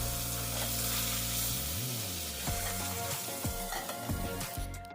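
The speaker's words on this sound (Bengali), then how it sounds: "কই মাছগুলো হালকাভাবে ভেজে নেব।" Koi fish frying in a little oil in a wok, a steady close sizzle with a few scraping or clinking touches partway through.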